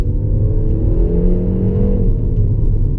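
Peugeot 308 GTi 270 in sport mode, with its electronic engine sound played through the cabin speakers: a steady, loud, rising drone with a low rumble and no talk.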